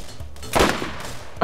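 Gunfire in the Borderlands shooter game, with one loud burst of shots in the middle of the moment followed by a sharper crack at the end, over a low background hum.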